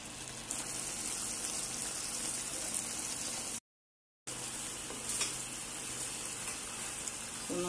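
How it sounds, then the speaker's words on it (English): Okoro soup with a little red palm oil boils in a covered pot, giving a steady bubbling sizzle and crackle, with a brief gap partway through. "So I have to cover it so that it will boil very well."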